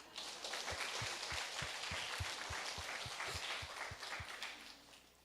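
A church congregation at a Sunday service breaks into sustained applause, many hands clapping together in a dense, lively wash for several seconds before fading.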